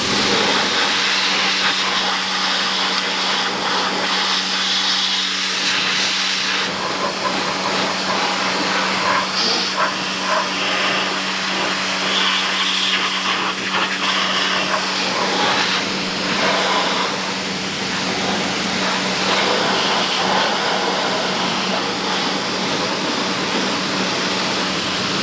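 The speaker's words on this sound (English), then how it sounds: "then pressure wash it off" Pressure washer rinsing snow foam off a car's underside during an underbody rust treatment, a loud, steady rushing hiss of spray with a low hum beneath, running without pause for the whole stretch.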